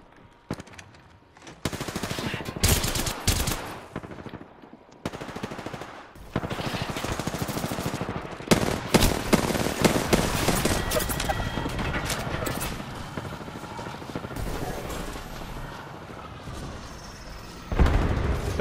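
Heavy gunfire in a video game: dense, loud automatic bursts and single shots crack repeatedly across the stretch, with short pauses between volleys and little talk.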